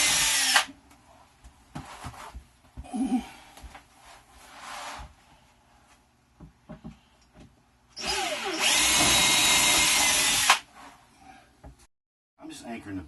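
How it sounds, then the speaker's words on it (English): A power drill bores up into an RV table from underneath, whirring in short bursts and then one long, loud run of several seconds, with people talking in the pauses. "The drilling from underneath."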